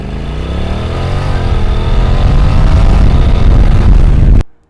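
A Honda NC750X motorcycle engine revving up strongly and holding a loud, rising drone close by for several seconds before cutting off abruptly at the end.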